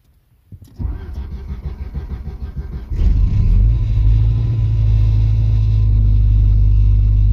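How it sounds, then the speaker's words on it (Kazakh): A gas-fuelled car engine in winter frost, about minus seven degrees, cranks with a rapid stuttering starter for about two seconds, then catches and settles into a loud, steady close-up idle rumble. "Мінекей, машина Алланың атымен оталды."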